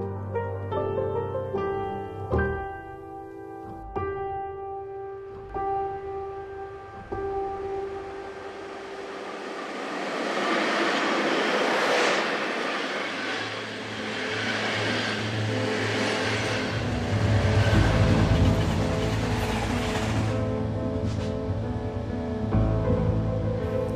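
A train ride to Treblinka, with a sustained broadband rumble and rushing noise that builds and swells over tonal machine hum and whine, steady and fairly loud with no speech.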